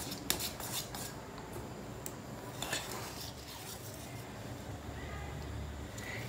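Wheat banana cake batter is mixed in a bowl, a steady close scraping and clinking of a spoon against the bowl, with a continuous rustle and a few sharper knocks.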